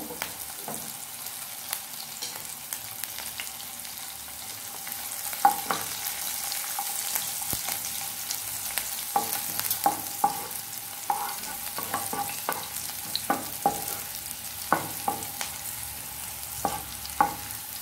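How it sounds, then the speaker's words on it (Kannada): Chopped spring onion frying and being stirred in a pan, a steady soft sizzle broken by repeated scraping knocks of the spatula, with no talking. "ಇದನ್ನು ಚೆನ್ನಾಗಿ ಫ್ರೈ ಮಾಡ್ಕೊಳ್ಬೇಕು."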